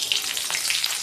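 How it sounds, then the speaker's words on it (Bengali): Bay leaf and cumin seeds hit hot oil in a pan and sizzle in a brief, bright, close crackling burst, with no voices. "তেল গরম হয়ে গেছে, তো আমি তেজপাতা, জিরে,"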